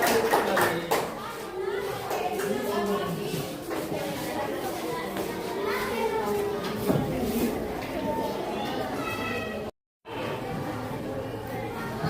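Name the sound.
class applauding a presentation group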